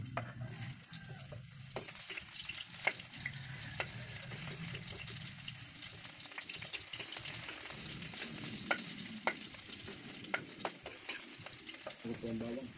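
Onion sizzling in a pan for a prawn sinigang, a faint steady crackling hiss with scattered small pops and occasional stirring clicks, continuous throughout.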